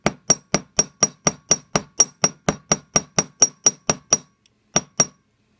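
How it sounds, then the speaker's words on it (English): Riveting hammer striking a copper bezel, about sixteen sharp, evenly spaced metallic taps with bright ringing clinks, close and loud, stopping briefly before two final blows. "I'm going to move this piece as I hammer, as opposed to moving my hammer."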